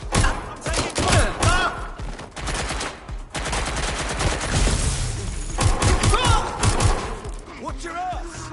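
Gunfire in Watch Dogs: Legion, loud bursts of rapid automatic shots mixed with thuds and in-game voices, intense and close throughout.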